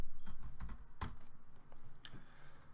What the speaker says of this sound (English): so I'll just type it